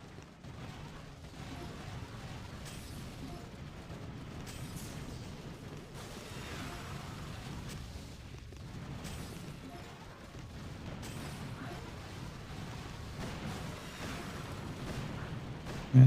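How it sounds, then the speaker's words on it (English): Boom cannons pound attacking tanks in Boom Beach: a dense, continuous battle din of booms, blasts and gunfire rolls on steadily with no pauses, ending in one louder hit. "these boom cannons are taking out way too many of my tanks"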